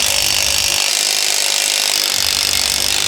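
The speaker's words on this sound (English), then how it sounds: "Now use your 24mm deep socket on your electric impact wrench as we have here, to tighten the U-bolt nuts the rest of the way down." An electric impact wrench with a 24mm deep socket runs down the U-bolt nuts of a lowering flip kit on a 2014 Ford F150, a loud continuous whirring buzz held close for the whole stretch.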